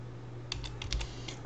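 Keystrokes on a computer keyboard, several quick taps in a short burst while a search phrase is entered into a browser search bar, close and fairly quiet over a low steady hum.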